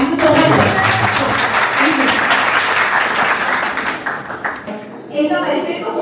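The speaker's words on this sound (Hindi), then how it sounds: "इतने प्यार से ताली बजा रहे हैं, इतना स्वागत कर रहे हैं" Sustained, loud audience applause welcoming a guest actress at a talk show in Jalvayu Vihar, Greater Noida, dense clapping throughout before thinning near the end as it fades.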